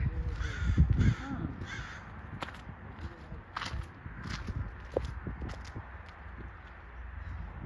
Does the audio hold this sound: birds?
yes